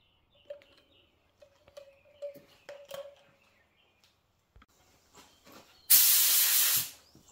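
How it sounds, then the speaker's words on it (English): A Spectrum HTE 1.3 paint spray gun with a 3M airflow control valve, spraying Black Pearl paint over Rust-Oleum black, gives a single loud, close hiss of about one second after some faint clicks and taps. "my spray gun, this is the Spectrum HTE"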